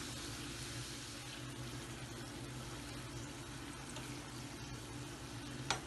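Potato samosas deep frying in hot oil over medium heat, a continuous even sizzle and bubbling at low level with a low steady hum beneath and one sharp click near the end.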